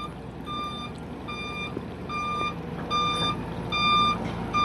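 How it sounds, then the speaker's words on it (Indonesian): Steady, evenly spaced reversing beeps ring out from a lowboy truck maneuvering to carry a pontoon for river normalization work, over the low rumble of the heavy vehicle and ambient site noise. "truk Loboy yang akan membawa ponton."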